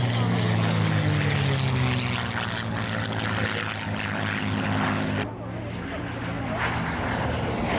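Two propeller-driven escort aircraft flying past at the Shoreham Airshow, a loud, close engine drone that sweeps down in pitch as they pass, with a commentator talking over it.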